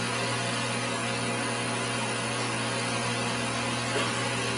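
Variable speed spa pump with IES control running at about 3320 RPM, a constant loud motor whine and hum with steady tonal layers and no change across the clip.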